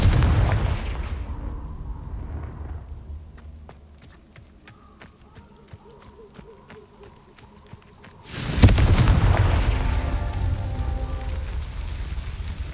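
Confringo fire spells blasting in the Hogwarts Legacy video game: a soft crackling, chiming build-up gives way to one loud, close explosion, followed by a sustained rumbling roar.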